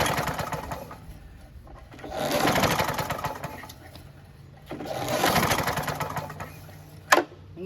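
Recoil starter yanked twice on a Briggs & Stratton 6.5 HP engine from a Scotts by John Deere mower with the spark plug removed, giving two rhythmic whirring crank bursts a few seconds apart and a sharp click near the end.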